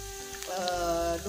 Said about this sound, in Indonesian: tambahin minyak dikit lagi biar agak mantep gitu goreng si sambelnya